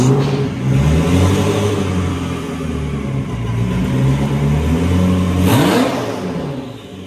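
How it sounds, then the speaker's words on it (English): A Lotus car engine runs close by as it is driven slowly into a garage, a steady, loud mid-pitched drone with a brief rev near the end. "He's going to be pulling his Lotus in the garage."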